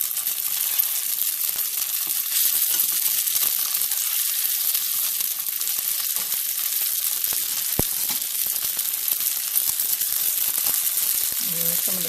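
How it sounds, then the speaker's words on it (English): Vegan mock fish nuggets made from nut cheese rolls frying in a pan, a loud, steady, hissing sizzle of hot oil with a few faint clinks and scrapes as the pieces are turned. "nut cheese rolls which we've just fried very quickly, one side and then the other"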